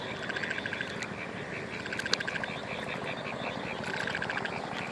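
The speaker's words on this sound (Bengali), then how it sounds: "দেখেন, ব্যাঙের যে আগমন অনেক দিন পরে সেটা শোনা গেছে।" Frogs croak steadily across a rain-flooded field, a dense, pulsing chorus of repeated calls that stays loud and continuous throughout, with no talking.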